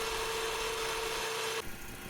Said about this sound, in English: And then I put it through the drill press, which you'll see here next.